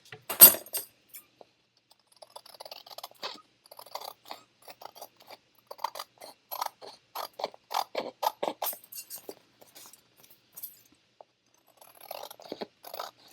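Paper for a junk journal being trimmed with a cutter or blade, a series of quiet, sharp clicking and scraping strokes in irregular bursts, close up with no talking.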